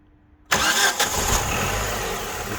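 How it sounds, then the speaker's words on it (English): A 1996 Ford Mondeo 1.6 gasoline engine catches abruptly after a brief quiet moment, then settles into a steady, loud idle close by. "Now start the engine."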